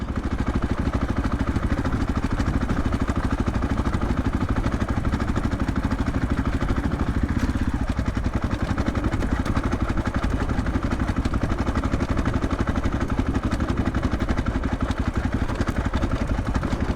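Athena Get SX1 motorcycle engine running steadily and loud up close, a continuous choppy, clattering drone held through gear changes without clear pauses.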